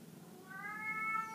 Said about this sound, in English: Oh, kitty.